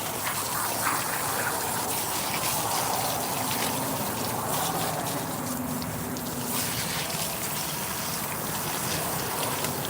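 Running water gushes steadily over a gutted sockeye salmon fillet as it is rinsed, a continuous close splashing hiss with no voices.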